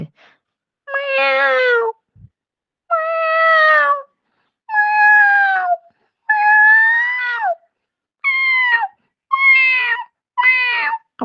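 A cat meows seven times in a row, each call long, drawn-out and fairly loud, with brief silent gaps between them.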